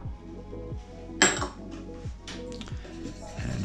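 Flour with baking soda and salt being whisked in a mixing bowl: a rhythmic series of light scraping strokes with clinks of a whisk against the bowl, one sharper knock near the middle, no talk.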